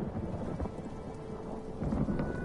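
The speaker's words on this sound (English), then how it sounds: "It's raining." Rain falls steadily in The Elder Scrolls Online, with low rumbles of thunder rolling beneath a soft, continuous patter, fairly quiet and with no voices.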